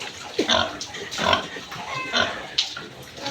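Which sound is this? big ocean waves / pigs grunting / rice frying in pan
pigs grunting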